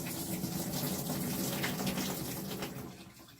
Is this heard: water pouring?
yes